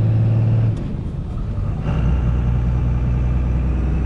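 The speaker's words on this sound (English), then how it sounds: "Might as well take the truck just for a spin." A 1999 Dodge truck drives along, its engine a steady, loud low rumble heard from inside the cab, with a brief drop and then a swell as it pulls away.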